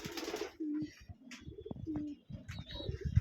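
Close, soft pigeon coos repeat in short rolling calls, with light pecking and shuffling sounds between them as the pigeons eat grit in a loft.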